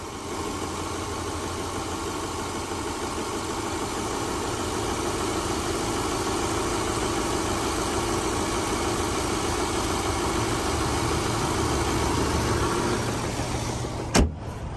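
Steady idle of a 2007 Subaru Outback 2.5 liter engine, a loud, close, even hum that holds for the whole stretch and ends in a sharp knock.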